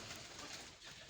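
Pigeons coo softly amid a steady wash of background noise, low murmuring calls blending together without pause.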